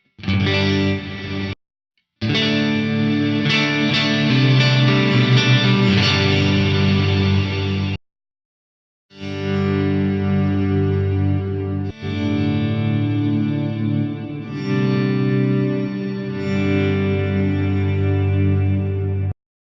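An electric guitar runs through an Axe-Fx III with a gated reverse reverb patch, playing sustained distorted chords that swell in and cut off abruptly into silence, loud and close in three long phrases.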